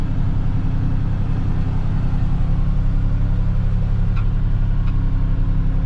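A Kubota Grand L tractor creeps along at low speed while working its lift, giving a steady, deep engine rumble, close and unbroken throughout.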